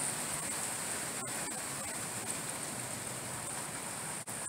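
Rainwater rushing through a flooded backyard before Hurricane Milton, a dense, constant wash of broadband noise like a stream, steady and moderately loud with no voices.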